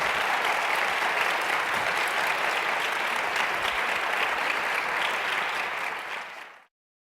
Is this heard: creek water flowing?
no